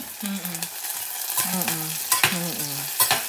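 Food being cooked in a pan, sizzling and frying with repeated scraping stirs of a utensil in a rhythmic pattern, close and clear with no talking.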